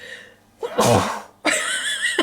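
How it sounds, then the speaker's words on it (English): A single loud, close sneeze bursts out with a sharp intake and explosive release, followed by a brief tonal sound and a small click. "I think I'm going to sneeze"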